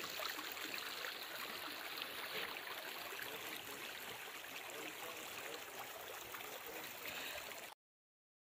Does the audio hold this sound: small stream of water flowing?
yes